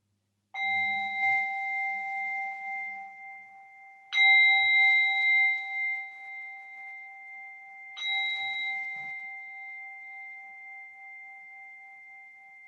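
A meditation bell struck three times to close a guided meditation session, each clear ringing tone sustaining and slowly fading, with the strikes spaced about four seconds apart and no talking.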